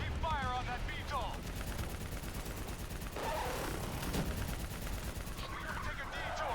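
Rapid bursts of automatic gunfire in the video game Call of Duty: Black Ops III, loud and sustained across a busy firefight, with shouted voices cutting in between the shots.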